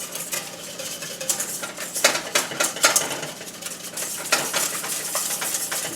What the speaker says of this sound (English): I'm going to whisk it.